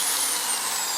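An old corded electric drill runs continuously at a steady high-pitched whine with a broad hissing buzz, close by and fairly loud, no talking over it.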